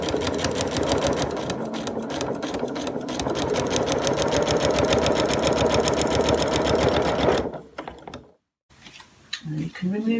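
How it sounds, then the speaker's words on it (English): Sewing machine stitching along a drawn line on a foundation paper-pieced flying geese quilt block at a short stitch length, a steady close mechanical whir running several seconds before stopping, followed by brief paper and fabric handling. "you're going to sew along that drawn line"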